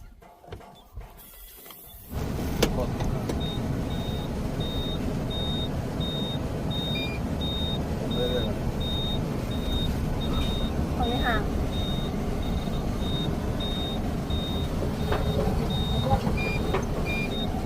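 A car driven by a first-time learner on a farm field runs with a steady low engine rumble and rattling cabin noise, a repeating electronic beep sounding throughout, after a short quieter start.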